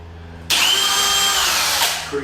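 A power drill bores screw pilot holes for a rim lock through a hardwood door, starting abruptly and whining steadily for about a second and a half up close before winding down.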